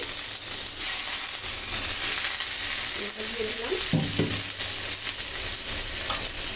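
Canned sardines fry in a pan, a loud steady sizzle with repeated scraping and stirring strokes in a loose rhythm, heard close and without speech.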